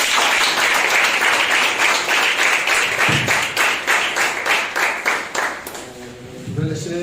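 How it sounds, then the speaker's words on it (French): Dense, loud applause from a congregation at a Catholic prayer service honoring the Virgin Mary fills most of the moment, then thins into scattered claps as a voice begins speaking near the end. "Applaudissons pour le Seigneur."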